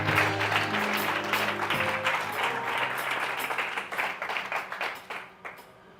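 Worshippers at a church service break into applause to acclaim the Lord, a full burst of clapping that starts loud, thins into scattered claps and fades out by the end, with soft tones held faintly underneath.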